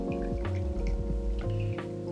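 Oil-soaked cannabis being wrung out by hand in cheesecloth, with drops of oil dripping and pattering steadily into a container below, close and fairly quiet with no talking.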